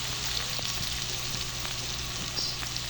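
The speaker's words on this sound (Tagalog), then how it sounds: "Igigisa natin yung tahong." Mussels sauté in margarine with garlic and onion, giving a steady, soft sizzle that holds evenly throughout, with a faint low hum underneath.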